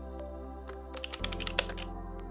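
A handful of quick keystrokes tap out a number range on a computer keyboard, close and light, over a steady electronic hum, with no one talking.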